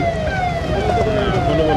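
An ambulance siren wails steadily and loudly on a badly rutted road near the marble market on Sonauli Road, with traffic rumble and a voice talking underneath.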